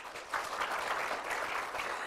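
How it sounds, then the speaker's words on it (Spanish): Audience applause at an award ceremony for a children's drawing and painting contest, a steady wash of clapping from a crowd that holds at even loudness throughout. "También esta tarde, con un aplauso, reconocemos a Citlali Mancera, de Etnica."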